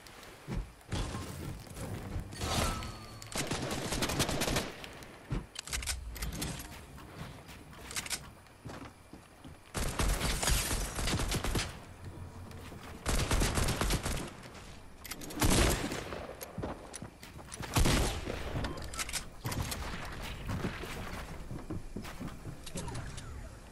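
Fortnite gunfire fills the game, with bursts of shots, thuds and impacts coming in dense clusters separated by brief lulls, steady at moderate loudness throughout.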